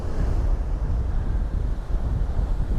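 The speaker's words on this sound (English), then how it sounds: "it's definitely windy on this side with that easterly wind" Strong easterly wind buffets the microphone throughout on the coast at Hengistbury Head on a winter's day, a low rumbling gusty roar that rises and falls slightly, with no voices.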